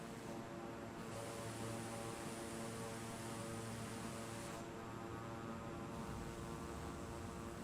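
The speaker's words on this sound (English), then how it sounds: "I hear something like a Boeing or a jet engine that's going full throttle" A steady, droning jet engine roar holds at a constant high pitch throughout, fairly distant and unbroken, with no voices.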